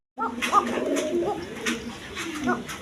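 An Arabian poka pigeon coos at close range, a series of soft, throaty rolling calls repeated over a few seconds with faint background noise.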